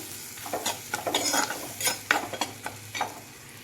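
Chilli powder being stirred into a moru curry in a pan, heard as a series of close scraping and stirring strokes over a soft sizzle, with no talking.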